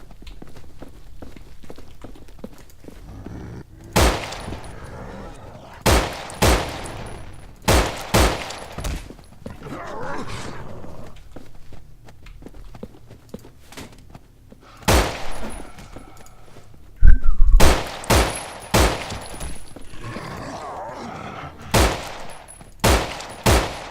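Gunfire in the zombie video game No More Room in Hell comes as sharp, loud shots in scattered singles and quick bursts, separated by quieter stretches of footsteps and movement.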